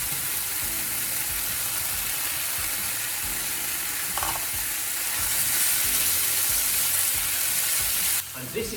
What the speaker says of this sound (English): I'm going to sear the beef until it's beautifully golden brown